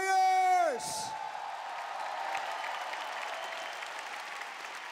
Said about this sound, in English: a big round of applause for your warriors!